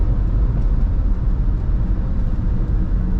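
A Haval H6 GT hybrid car accelerates hard, heard from inside the cabin as a steady, loud low-pitched engine and road drone with no talking.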